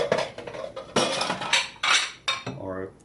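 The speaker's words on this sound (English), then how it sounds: "I'm going to put it in a bowl" Food for nut butter kale being put into a bowl, with clattering dish and utensil knocks in several bursts, close and fairly loud, ending in a ringing clink.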